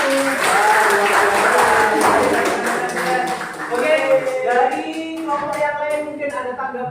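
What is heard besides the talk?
classroom applause for presenting group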